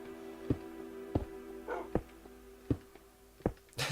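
A Minecraft pet dog barking, six or seven short, evenly spaced yips and barks at moderate volume, ending with a louder final bark.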